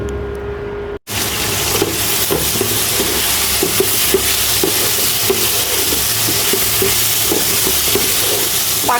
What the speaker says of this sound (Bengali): পাকা উস্তা ভাজি করতেছি